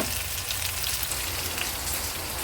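Steady rain falls outside a window during a Quezon City downpour, a dense continuous hiss of drops striking surfaces with no pauses, fairly close and even in loudness throughout.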